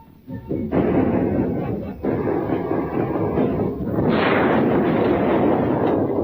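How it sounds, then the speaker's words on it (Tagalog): Loud, continuous rumbling blasts and booms, heavy and sustained, with a louder burst partway through, like explosions going off nearby. "may mga pagsabog na nagaganap ngayon"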